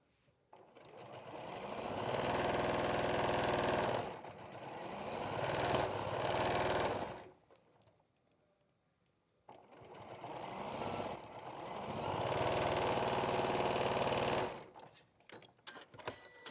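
A domestic sewing machine stitching fabric runs in two long, steady bursts of fast mechanical whirring, each several seconds long, separated by a quiet pause and followed by some brief handling clicks. The machine is close and loud, with no talking.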